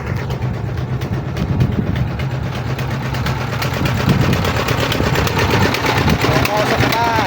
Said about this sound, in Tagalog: Habang naguguhit, bubuhos, tuloy-tuloy ang andar ng kanilang oven.